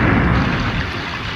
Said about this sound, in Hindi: और मूसलाधार बारिश होने लगी है।